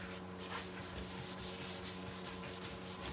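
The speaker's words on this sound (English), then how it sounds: "sanding disc" A sanding disc rubs steadily across painted wooden furniture in rhythmic back-and-forth strokes with a constant low hum, fairly quiet and close.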